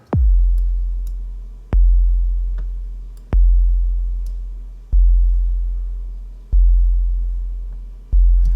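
Deep sine-wave sub tone from a drum synth in a trap beat, six booming hits spaced about every 1.6 seconds, each with a sharp attack and a long, slowly fading low hum, loud and alone.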